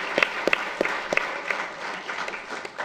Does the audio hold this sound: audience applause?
yes